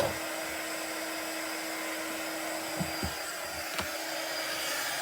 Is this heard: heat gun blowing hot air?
yes